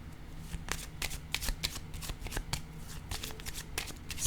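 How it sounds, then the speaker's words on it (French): Oracle cards are shuffled and drawn by hand in a dense, flapping riffle of quick snaps and slides, close and continuous for several seconds, with no clear talking over it. "Je vais piger une autre carte."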